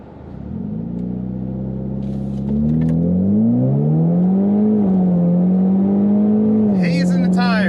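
A car with an A10 automatic transmission launches hard with wheel spin on tires set to 25 PSI, the engine note climbing loud and close with a shift partway through, while people talk and cheer.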